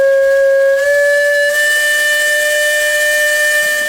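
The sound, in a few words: old swing bridge steam whistle on a Case steam engine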